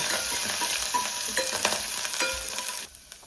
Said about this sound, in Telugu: వెల్లుల్లి తురిమి అల్లం తురిమి ఇలా తురుముకున్నాను దీన్ని కూడా వేసేయండి వేసి కొంచెం వేయించాలి